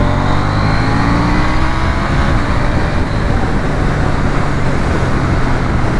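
A KTM 890 Duke R motorcycle accelerates hard, its engine note rising steadily over loud, continuous wind and road roar.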